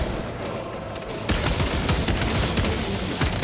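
Gunfire in Space Marine 2, dense rapid automatic shots that grow thinner as the magazine runs low, loud and sustained close up, with no talk.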